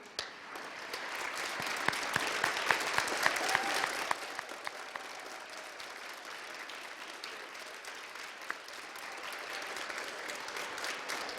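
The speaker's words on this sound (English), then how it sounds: "I would like these fine choral directors to stand and be recognized right now this evening with our applause" An audience at a middle school choir Christmas concert applauds the choral directors, loud and full for about four seconds, then tapering into scattered, fainter clapping.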